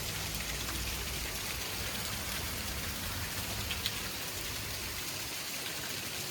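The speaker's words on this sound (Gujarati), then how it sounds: "જોરદાર વરસાદ, ફાસ્ટ એકદમ ફાસ્ટ વરસાદ આવ્યો છે" Heavy, fast rain pours down in a steady, dense hiss and roar that stays even from start to finish, with no pauses and no voices.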